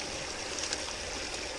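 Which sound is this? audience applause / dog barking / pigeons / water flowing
water flowing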